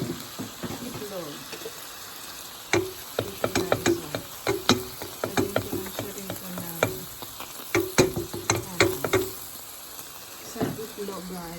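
Eggs scramble in a hot pan, sizzling softly under a run of sharp scrapes and taps as they are stirred, with a voice briefly heard.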